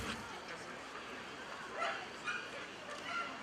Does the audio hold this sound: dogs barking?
yes